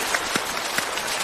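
Studio audience on a Chinese comedy stage show applauding, a steady dense wash of clapping across the whole moment with a couple of louder accents.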